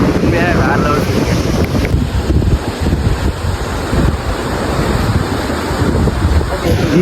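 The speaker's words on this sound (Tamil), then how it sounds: "இந்த காற்று பாருங்கள், அப்படியே தென்னை மர காற்று உண்மையாக வேறு லெவல் இருக்குங்க" Sea breeze rushes through coconut palms at Varkala beach in Kerala, a loud, constant roar of wind buffeting the microphone with a faint wash of surf underneath and no clear speech.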